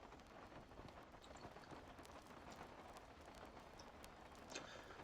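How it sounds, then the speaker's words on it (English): Faint steady rain pattering in the background, a soft continuous hiss with scattered drip ticks and no voices. "I keep thinking I was hearing rain"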